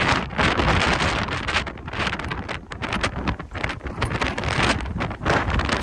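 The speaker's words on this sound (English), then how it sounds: "Alright, the wind has died down enough where I can stand up now." Strong wind gusts buffet the microphone during a Massachusetts extreme wind event, a loud, continuous roar with surging bursts and brief lulls, close and unbroken throughout.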